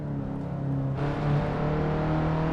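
A race car engine held at full throttle in a sim racing game at Sebring, a steady loud drone with a slight rise in pitch partway through, heard alone.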